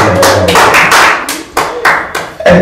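Audience applause at an open mic night, a close burst of clapping and hand taps that swells and then breaks into several fading surges over a few seconds, with no voices.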